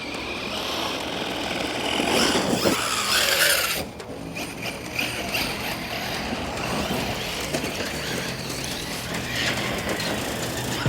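Arrma Vorteks converted to an Outcast-style 4S stunt truck, driving and jumping. A steady whirring, rattling drivetrain runs throughout, louder for the first few seconds, then dips briefly and carries on at a lower level.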